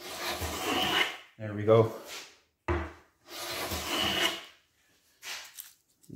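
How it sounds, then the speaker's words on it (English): A hand plane shaves a wooden acoustic guitar brace in several close, rasping strokes with pauses between them, and a voice briefly speaks once. "You can see these nice shavings coming out."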